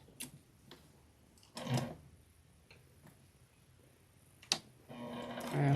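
A sewing machine stitching a thick Christmas bowl cozy made from fabric scraps at a 3.5 stitch length, heard as faint ticking clicks and short mechanical whirring bursts, ending in a louder, sustained run.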